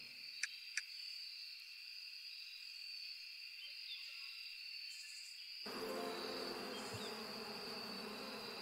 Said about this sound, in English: forest bees.